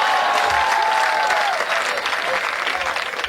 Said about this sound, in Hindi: एक बार माइक वाले के लिए जोरदार तालियां हो जाए